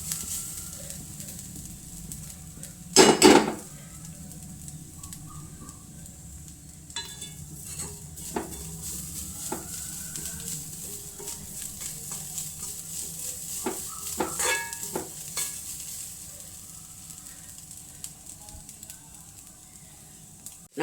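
Grated coconut roasting in a pan on the stove for a Kerala curry, with a soft steady sizzle and scattered scrapes of a spoon stirring, plus one loud clatter of metal early on.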